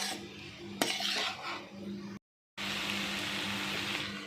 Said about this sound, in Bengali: দিয়ে আবার সব সবজিগুলোর সঙ্গে মিশিয়ে নিচ্ছি